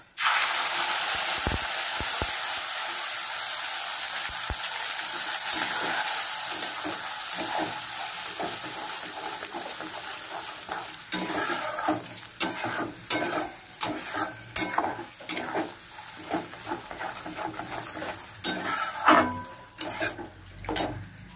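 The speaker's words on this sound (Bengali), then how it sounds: "এই যে মশলাটা আমি ভেজে মিক্সিতে পেস্ট করেছি, সেইটা এখন দিয়ে দেবো" Fried, blended spice paste dropped into hot oil with dried red chillies and bay leaves for Bengali chicken kosha: a loud, steady sizzle that settles, then turns into choppy bursts of frying and stirring scrapes.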